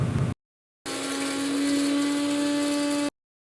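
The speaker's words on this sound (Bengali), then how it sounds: "এখন বাদামের খোসাগুলো ছাড়িয়ে বাদামটাকে পেস্ট করে নিচ্ছি" A blender grinds soaked, peeled nuts into a paste in a steady, loud motor whine that holds for a couple of seconds, following a short earlier burst.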